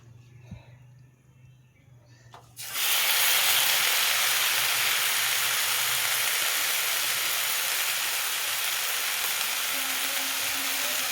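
Lafa greens drop into a hot kadai and set off a sudden loud sizzle that stays strong and steady, following a few seconds of quieter kitchen sounds.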